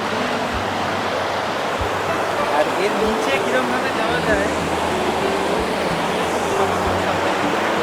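Steady broadband rush of flowing water near a waterfall at Jagdalpur, Chhattisgarh, close by and continuous throughout, with faint voices and low thumps mixed in.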